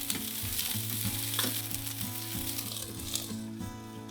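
Autumn vegetable rolls pan-frying to brown both sides, a steady close sizzle with faint spatters running throughout, no voices.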